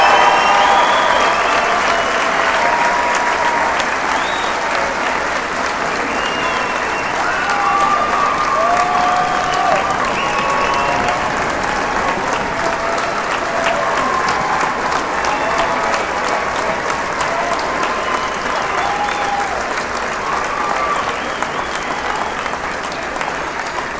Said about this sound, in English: One final round of applause for the class of 2018.